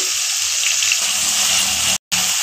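Onions and salt frying in hot oil in a pan, a steady close hiss and sizzle with no voices and one very short cutout.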